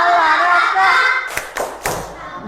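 Sharp, distinct hand claps from a children's clap chant ring out close in a short burst of about three, following a stretch of voices singing.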